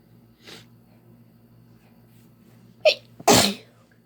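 A woman lets out a loud, sharp sneeze near the end, preceded by a quick catching breath. The sneeze is heard alone over a low, steady background hum.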